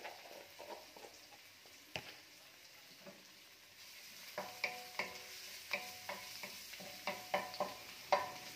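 Garlic fries in hot oil for a beef tripe and chayote dish, a faint sizzle broken by a run of sharp scraping stirs of a utensil against the pan that grow more regular toward the end.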